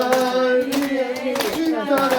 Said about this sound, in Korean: 자, 박수하면서 아리랑.